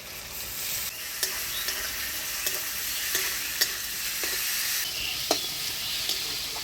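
Onion, tomato and crushed garlic fry in a pan for a prawn and jackfruit curry, a steady sizzle broken by scattered sharp clicks of a spoon scraping and stirring, close and alone.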